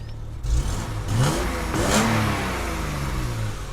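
A classic BMW six-cylinder car engine revs up a few times, rising and falling in pitch, close and fairly loud with no voices.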